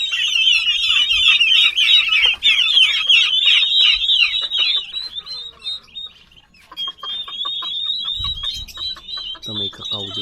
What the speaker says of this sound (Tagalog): Dami din nilang manok dito